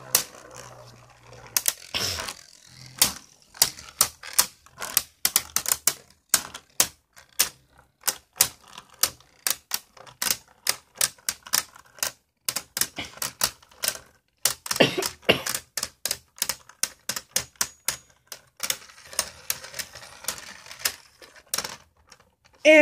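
Beyblade spinning tops, including a Drain Fafnir, battling in a stadium, heard as a long run of sharp clacking collisions, close and fairly loud, with no talk over them.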